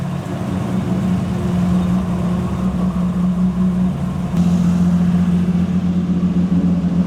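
A heavily modified Toyota Supra engine of over 1000 hp idles at about 1800 rpm, a loud, steady low hum and drone heard close up, with a slight shift in tone midway and no talk.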